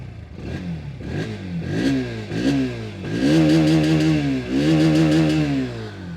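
A Bajaj Pulsar NS160 motorcycle engine revs repeatedly, rising and falling in quick bursts, then holds a few longer, higher revs, loud and close.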